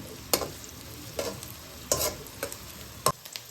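Chopped onion stirred in hot oil gives a faint frying sizzle broken by five sharp scrapes and clinks of a spoon against the pan, spaced unevenly over a few seconds.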